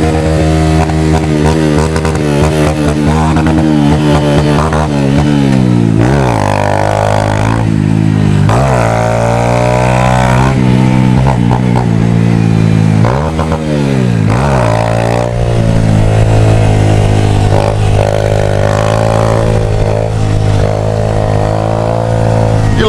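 Motorcycle engine revving hard and repeatedly while the bike rides a wheelie on a full fuel tank, loud and close throughout, its rising and falling throttle sweeps continuing without pause.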